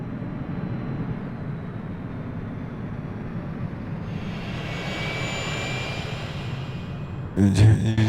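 Airplane engine in the city-building game Workers & Resources: Soviet Republic, a steady loud engine drone with a rising whine that lasts throughout, before a brief burst of louder noise near the end.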